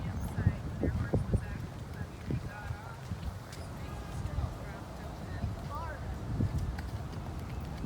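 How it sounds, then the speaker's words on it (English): Horses returning from a trail ride at Disney's Fort Wilderness Resort & Campground clop along with a few scattered hoof beats, fairly faint and mixed with outdoor ambience and people talking nearby. "Beautiful horses."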